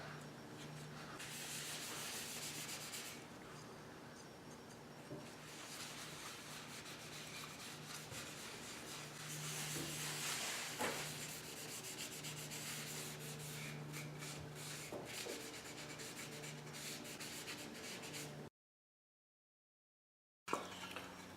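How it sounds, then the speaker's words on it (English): A rag rubs golden oak wood stain onto a wooden piece with steady, close swishing strokes that rise and fall, stop for a short silent gap near the end, then return. "I got some golden oak stain. I'm just going to rub this on with a rag."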